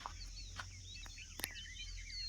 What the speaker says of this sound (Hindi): कितने प्रकार के कीड़े, कितनी प्रकार की चिड़ियाँ बोल रही हैं